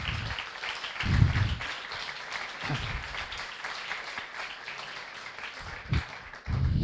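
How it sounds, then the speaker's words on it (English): Applause from an event audience greets a newly introduced guest speaker, New York City's Chief Digital Officer, at an evening panel; moderate clapping swells in uneven bursts and stays fairly distant, with no talking over it. "Sreenivasan, a big round of applause for him"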